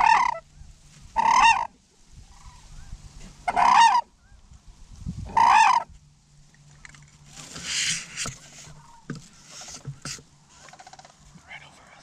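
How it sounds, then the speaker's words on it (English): Sandhill cranes on a hunt near Lubbock, Texas, calling overhead in four loud bursts of honking, rattling cries spaced a couple of seconds apart, followed by rustling, movement and quieter talk. "There's so many birds around right now"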